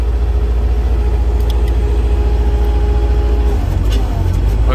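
Engine of a 2011 Caterpillar 257B2 compact track loader running steadily at close range, a continuous low rumble with a faint tonal whine, shifting slightly near the end as the foot throttle is worked.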